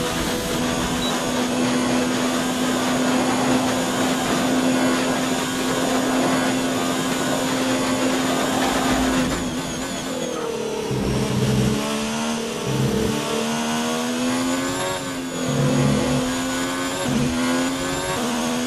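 A Red Bull Formula 1 car engine on a hot lap at the Belgian Grand Prix in the F1 2019 game, a loud sustained high-pitched whine that shifts through gears with rising and falling revs, continuous and without talk.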